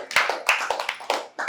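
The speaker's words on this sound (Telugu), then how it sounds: "వెరీ గుడ్ బేటా, అందరు క్లాప్స్" Children clapping in a classroom at a school for mentally challenged children, a loose, uneven run of close, sharp claps in small bursts, with a short gap before a final clap.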